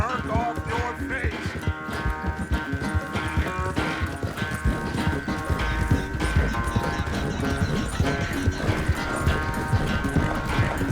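Horse hooves clip-clop steadily as a rider travels in Red Dead Redemption 2, a rhythmic trot running under a musical score and spoken character dialogue.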